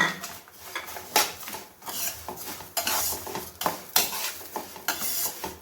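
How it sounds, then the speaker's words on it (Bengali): Cashews and raisins frying in a pan while being stirred for a vermicelli-and-milk dessert, with repeated scraping and clinking of a utensil against the pan over a steady low sizzle, close and fairly loud throughout. "আমি এর মধ্যেই দিয়ে দেব কাজু আর কিশমিশটা, এর সঙ্গে আমি ভেজে নেব।"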